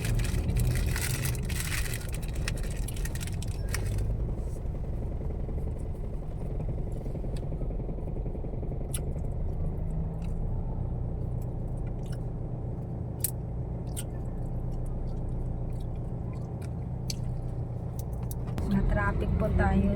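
Traffic in front of a school in Sta. Lucia, Ilocos Sur is heard from inside a vehicle, a steady low rumble of engines with occasional clicks and knocks. A voice speaks over it.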